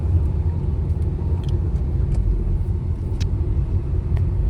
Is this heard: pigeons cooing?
no